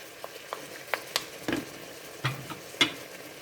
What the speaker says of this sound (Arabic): راه تقلى مع البصل، حمر فيه شويه